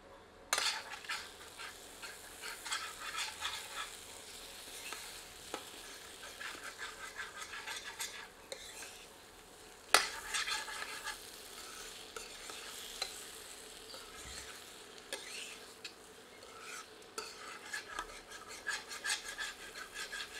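Dhaba-style chicken curry masala simmers over low heat while a ladle scrapes and stirs through the thick mixture, soft rasping strokes and occasional sharp knocks against the pot over a faint sizzle.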